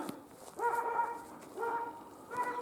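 A dog barks outdoors on a rural homestead, three drawn-out, somewhat distant barks or howls spaced about a second apart against quiet background.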